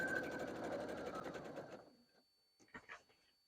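A sewing machine stitches a spring flag quilt with a fast rhythmic whirring that runs close and steady for about two seconds, then stops, followed by a few faint clicks.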